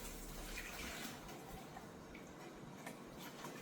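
Water pouring and splashing as soaked sticky rice is drained through a strainer, a continuous close watery rush with small ticking drips and no talk.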